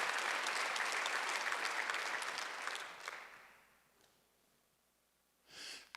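A church congregation applauds during a Sunday worship service. The crowd's clapping is dense and sustained, then it fades out to near silence. A brief sound comes at the very end.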